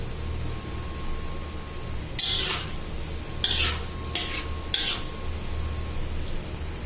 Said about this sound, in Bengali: আমি এখন এই মশলাগুলি তেলের মধ্যে ভাজবো